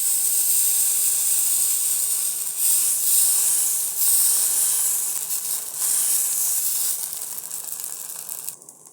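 Dosa batter made from ration rice sizzles on a hot pan, a steady bright hiss like steam that holds evenly and then thins out near the end, with no voices.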